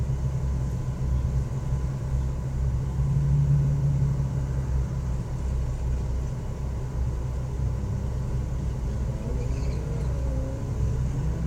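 A competitor's car passes at an SCCA autocross event in Grand Forks, North Dakota, heard as a steady low engine rumble that swells slightly mid-pass and stays fairly constant, with no talking.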